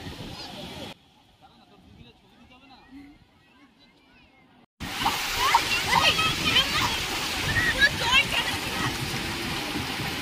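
Seawater at Digha beach washes and splashes around people bathing, beginning with a short burst of surf, dropping to a muffled lull, then returning as a loud, dense rush of splashing water and waves under scattered voices.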